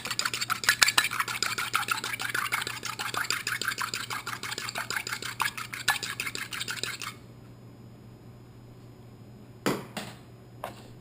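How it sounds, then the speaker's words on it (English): Rapid, steady scraping and clicking of a utensil beating an egg in a bowl for several seconds, then stopping, followed by a couple of sharp knocks. "You take an egg and you beat it."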